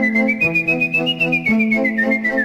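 Whistling at a cultural season presentation evening in La Ravoire, a single sustained, gliding whistled tone with a steady pitch that slowly falls, heard clearly with no talk over it.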